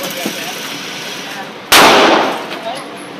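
A single sharp gunshot fires at a shooting range, loud and close, its report echoing away over a second or so above a quiet outdoor background.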